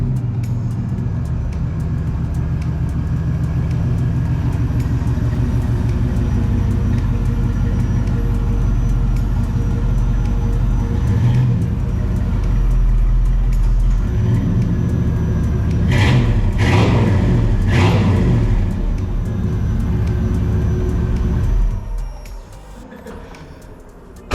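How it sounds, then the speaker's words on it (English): An old Chevrolet Blazer, about 30 years old, idles and is driven up close. Its engine gives a loud, steady low rumble that swells briefly near the end and then cuts back. "So let me pull the Blazer up here"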